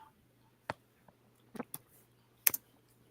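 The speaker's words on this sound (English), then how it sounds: "I'm kind of typing it fast, so I'm going to make some typos now." Fast typing on a computer keyboard, a handful of sharp, quiet key clicks in uneven bursts, some doubled in quick pairs, close to the microphone in an otherwise quiet room with a faint steady hum.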